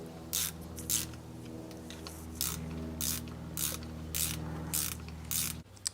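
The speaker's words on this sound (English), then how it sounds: "Just little by little, working my way around in that star pattern and tightening it up." Bolts on a backflow preventer diaphragm cover being tightened a little at a time in a star pattern, with repeated short ratchet clicks in bursts over a low steady hum, close and fairly quiet.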